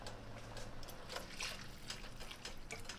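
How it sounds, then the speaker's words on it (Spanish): About two cups of water pour into a pan of Mexican rice with tomato, a soft continuous trickling and splashing that stays quiet and steady throughout. "ahora le voy a agregar unas 2 tazas de agua"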